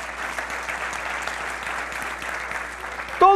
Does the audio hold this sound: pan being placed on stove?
no